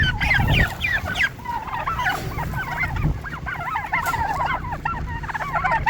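Chickens and a turkey cluck and chatter continuously, close by, with a low hum underneath and a brief louder squawk near the start.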